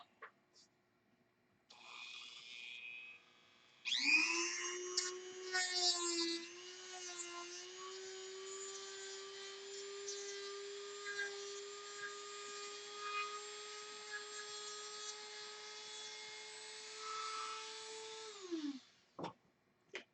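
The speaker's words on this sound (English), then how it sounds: "Get the Dremel." A Dremel rotary tool whines at a high, steady pitch for about fifteen seconds after a brief start, with the tone wavering slightly under load before it winds down and stops, with faint talk around it.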